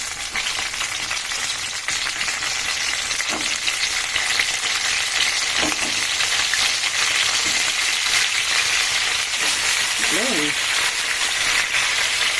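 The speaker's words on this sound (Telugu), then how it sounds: "ఆయిల్ తర్వాత ఇట్లా కట్ చేసుకున్న వంకాయలు వేసుకోవాలండి." Cut eggplant pieces frying in oil in a kadai, a loud, dense, unbroken sizzle close by with occasional stirring knocks and a brief faint voice near the end.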